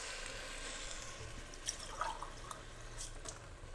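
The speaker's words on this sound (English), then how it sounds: "You can now add the wine." A glass of wine poured into a cooking pot for a French lamb ragout, a soft quiet liquid trickle with a few faint splashes and drips over low kitchen background noise.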